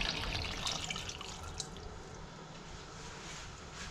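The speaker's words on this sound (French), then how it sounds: "Et on va couvrir de l'eau." Water pours steadily over a sardine ball mixture with olive oil in a pan, a continuous close splashing stream that thins slightly toward the end, with no talking.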